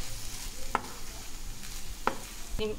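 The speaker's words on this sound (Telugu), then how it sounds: "సారీ మొత్తం ఒకసారి కలుపుకుందాం" Tomato rice with chopped coriander stirred in a pan, three sharp scraping strokes of a spoon against the pan over a soft sizzling background, with no talking.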